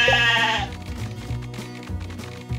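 A sheep in the Paw Patrol Academy video game gives a single clear bleat up close at the start. Light game music and chiming sounds carry on beneath it.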